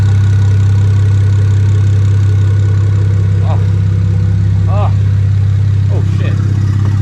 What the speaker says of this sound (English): But doesn't the motor sound good?